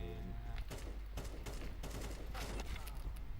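Gunfire in the Counter-Strike 2 video game, several sharp shots and short bursts in quick succession over a few seconds.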